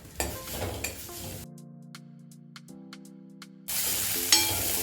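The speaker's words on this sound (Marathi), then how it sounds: "एखादा मिनटं परतून घ्यायचं आहे" Chopped ginger, garlic, chili and vegetables sautéing in ghee in a pan, with a crackling sizzle and stirring at the start, then a quiet stretch of steady tones before a bright hiss returns near the end.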